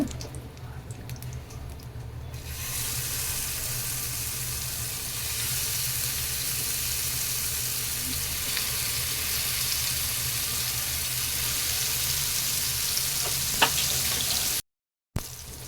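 Oil sizzling steadily in a pan with curry leaves before fish is added, a loud, continuous close frying hiss on medium flame that runs throughout with a brief dropout near the end.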